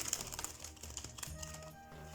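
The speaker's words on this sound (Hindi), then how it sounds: "एक मिनट मुझे कार्ड शफल करने दीजिए।" Tarot cards are shuffled by hand in a few quick bursts of soft flapping and riffling, close and fairly quiet, with no talking.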